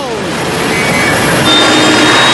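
A jet airliner touching down on a runway in stormy weather, a loud, continuous roaring rush of engine and wind noise that swells slightly toward the end.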